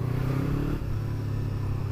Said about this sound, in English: It's got a good beefy bassy rumble, but it's not very loud.